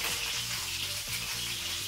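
Quiet, steady sizzling hiss of fish frying in a pan for a fish burger, a continuous crackling texture with a low hum underneath and no voices.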